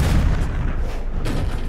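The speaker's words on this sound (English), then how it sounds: "That explosion was way too big." Loud, dense explosion blast in an Iron Man video game, a continuous booming rumble with a renewed burst near the end, heavy low end and no talk over it.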